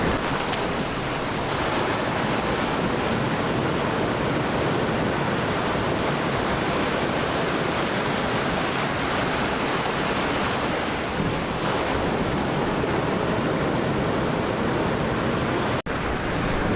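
Surf breaking on Chethy Beach in Kerala where men fish in the waves, a continuous loud roar of crashing water filling the whole stretch with no voices.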